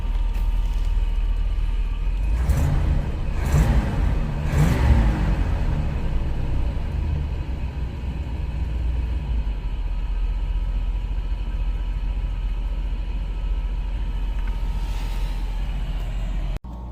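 A Chevy 454 V8 in a 1980s Winnebago motorhome runs steadily after a Quadrajet carburetor rebuild, a deep continuous rumble close by with a few louder surges early on, then an even idle until it cuts off at the end.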